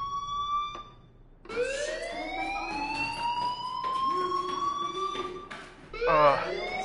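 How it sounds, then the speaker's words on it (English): A school fire alarm going off in Life is Strange, a loud rising and wailing siren tone that repeats in sweeps, with people talking beneath it. "Hey, do you hear that fire alarm?"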